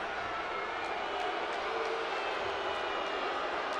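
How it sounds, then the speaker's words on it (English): A volleyball arena crowd at a women's regional final reacts to an overruled line call with a sustained broad roar of voices, steady and moderately loud. "You can hear how the crowd feels about that."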